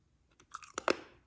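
Brittle old trading-card gum from a Garbage Pail Kids pack cracks and crunches during a few quick bites, close and quiet, with sharp crackles clustered in about a second.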